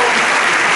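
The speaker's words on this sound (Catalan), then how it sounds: "Un aplaudiment, va, vinga." An audience at a choir's twentieth anniversary concert applauds, a dense, loud burst of clapping with no gaps across the short span.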